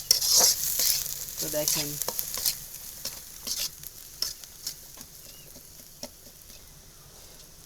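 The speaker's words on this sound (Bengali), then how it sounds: "আম্মু মাছ দিয়া দিছাই" Fish sizzles in hot oil in a pan, loud at first with sharp spattering crackles that gradually fade to a quieter, intermittent frying hiss; a voice speaks briefly early on.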